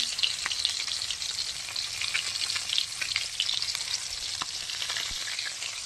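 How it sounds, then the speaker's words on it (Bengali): Fish frying in hot oil in a home kitchen, a loud continuous crackling sizzle with dense popping spatters close by and no voices. "দেখুন বন্ধুরা, মাছ ভাজা হচ্ছে।"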